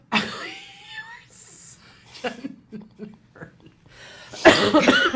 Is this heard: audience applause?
no